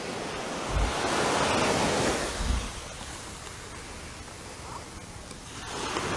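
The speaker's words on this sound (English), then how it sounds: "This is a very popular beach." Waves break at Brandons Beach in Brighton on an early morning, a steady close wash of surf with a couple of low thumps early on and a soft wind-blown hiss throughout.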